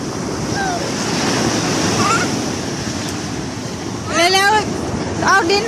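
Sea waves wash onto a beach at Songkhla in a continuous loud surf roar with wind buffeting the microphone, while children's voices chatter and shout over it.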